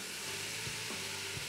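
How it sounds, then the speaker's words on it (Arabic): Mushrooms dropped into a hot pan for oat diet soup, giving a steady broadband sizzle with a few soft stirring scrapes, close and continuous without talk. "هنيجي بقى نحط المشروم"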